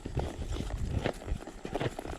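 A Walking Horse mare carries a rider along an outdoor trail, her hooves thudding in a steady, uneven clip-clop with close, scuffing footfalls.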